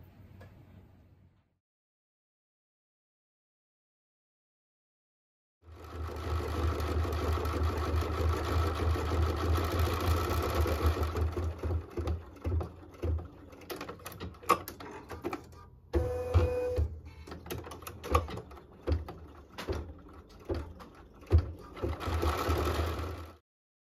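An embroidery sewing machine with its hoop attached stitches out a decorative word, a steady fast mechanical rattle and hum that runs loud and close with brief pauses and changes in pace, with no talking.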